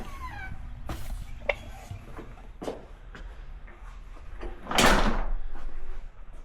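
A house's front door is handled with several light clicks and knocks, then a louder burst of whooshing rustle as it swings open, against a quiet room with faint background noise.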